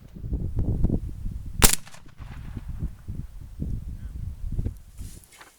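A single sharp report from an 1863 Sharps rifle at an outdoor range, followed by low rumbling handling noise and murmured talk.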